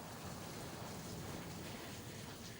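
Steady rain falling, a constant broadband hiss with no distinct drops or voices, moderately quiet throughout.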